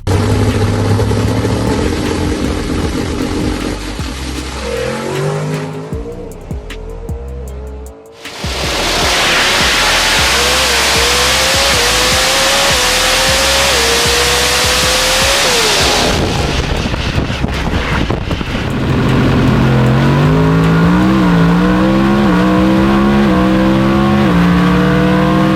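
A Mountain Motor Pro Stock drag car makes a test pass at Route 66 Raceway. The engine revs loud and close, with rising gear-change sweeps and a brief cut, then a wide roar as it runs down the track and climbs through the gears again.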